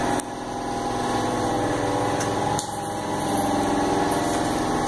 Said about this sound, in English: the compressor's running in the background.